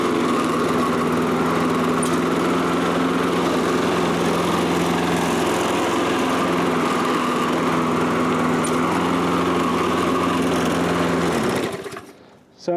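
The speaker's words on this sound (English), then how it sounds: "So he's going to have a nice running lawnmower." A Toro lawn mower engine runs steadily and loudly at close range with a constant droning hum, then cuts out abruptly near the end.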